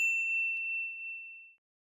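A single bright notification bell ding, struck once and ringing clearly before fading cleanly into silence.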